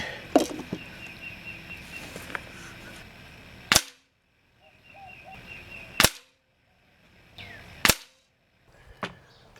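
Three sharp, loud shots from a Beeman 1330 Raider .177 caliber PCP air rifle, evenly spaced cracks with quiet gaps between them, the first preceded by some handling clatter.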